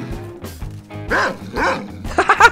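A dog in the Garry's Mod video game barks and yips in a rapid string of short, close, loud barks with brief whimpering tones, while faint background music plays underneath.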